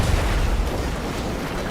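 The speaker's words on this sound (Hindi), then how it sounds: "पीछे कुछ तो ब्लास्ट हुआ" An explosion goes off behind a car in GTA 5, a loud deep rumbling blast that rolls on as a dense roar for under two seconds, with no talk over it.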